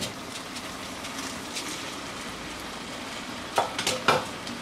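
Rice being added to cooked vegetables in a pot for spicy Maharashtrian masale bhaat: a low, steady simmering hiss, then a few sharp scraping and clinking strokes of a spoon near the end.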